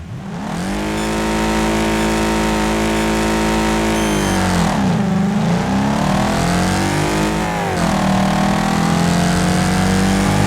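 A race car engine from a video game roars on the Motor City Circuit with standard gear ratio, loud and close, climbing steadily in pitch, dipping briefly around gear shifts, then revving up again.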